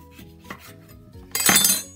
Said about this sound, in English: So I'm going to cut that in half.